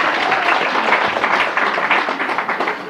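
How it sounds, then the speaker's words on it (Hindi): Dense, close applause from an audience fills a room at a Brahma Kumaris center quiz competition in Sambhajinagar, Maharashtra, sustained and even, then slightly thinning at the end. "तालियां हो जाए बहन के लिए।"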